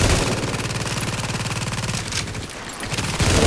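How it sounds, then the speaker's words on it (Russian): Sustained, rapid automatic machine gun fire from the video game Tom Clancy's The Division, a loud continuous rattle of shots with a brief dip before resuming, and no speech over it. "Что там у тебя за стрельба?"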